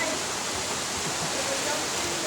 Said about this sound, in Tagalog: Dito po pala ang Giluparan Falls.